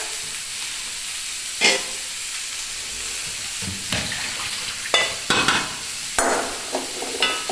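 Food fries in a pan with a constant close hiss, broken by several sharp clatters of a utensil stirring against the pan.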